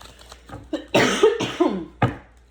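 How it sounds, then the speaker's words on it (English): A burst of several close, raspy coughs in a quick irregular sequence, fairly soft and with nothing else beneath them. "Why I'm coughing all of a sudden?"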